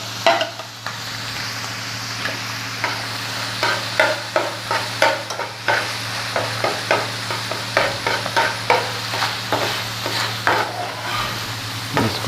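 A spoon stirs chicken liver masala with green chilli in a frying pan, giving repeated close scraping strokes over a steady sizzle, with no talking.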